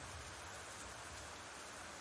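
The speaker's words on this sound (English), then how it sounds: "The real problem here is this rain." Steady video game rain in Black Book hisses evenly across the whole stretch, a dense broadband wash with no voices or other distinct sounds on top.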